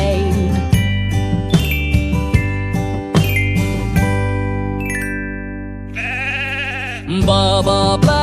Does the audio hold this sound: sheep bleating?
yes